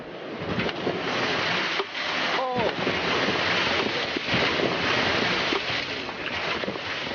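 Stormy Southern Ocean off Antarctica, with heavy waves and strong wind pounding around a yacht: a continuous loud roar of wind and surf, with splashes and gusts throughout and a brief dip partway through.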